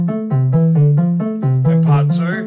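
Part one of a two-part sequencer project on a Vector running new firmware plays a short synth phrase of stepped tones, loud and close, with a brighter, noisier flourish near the end.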